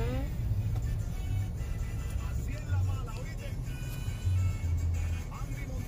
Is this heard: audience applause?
no